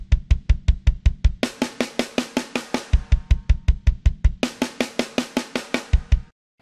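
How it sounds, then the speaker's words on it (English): A programmed drum kit plays a rigid, machine-even pattern of kick and snare hits with no humanization, steady and loud, with bursts of brighter cymbal-like wash in two sections before stopping abruptly. "And then when they play that, this is without any humanization"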